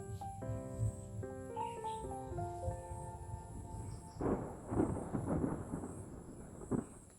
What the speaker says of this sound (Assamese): মেঘে গাজি আছে, বৰষুণ দিয়ে নে ঠিক নাই আৰু